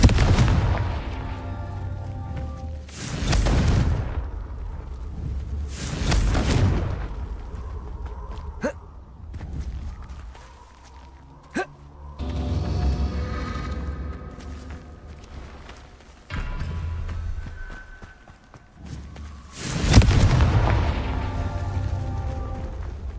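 Confringo blasting-curse explosions from Hogwarts Legacy burst out as several loud booms spaced a few seconds apart, each with a sharp attack and rumbling decay, mixed with softer game sound effects between the blasts.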